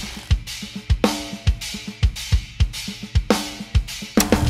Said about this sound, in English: Or simply stacking 2 cymbals together to get a unique sound.